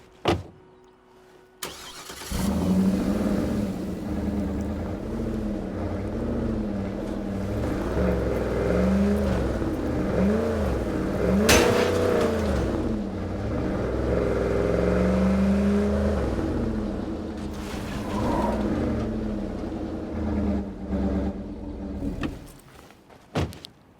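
A truck engine in the video game State of Decay 2 starts up and drives, a steady rumbling engine drone with rising and falling revs, preceded and followed by brief clunks.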